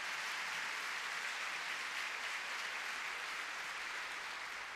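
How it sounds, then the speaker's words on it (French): Spectators at an international five-star show jumping event in Bordeaux applaud steadily as a horse and rider finish a round, a dense, even wash of clapping from a large crowd that holds for the whole stretch with no talk over it. "Vraiment, ça mérite un tonnerre d'applaudissements pour Harry Smulders."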